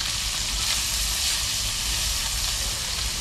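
Trout sizzling in a pan of olive oil and butter, a steady, dense frying hiss throughout with no talking.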